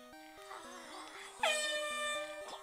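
An air horn gives one loud, blaring honk partway through, over stepped electronic tones from a Pokémon Yellow game.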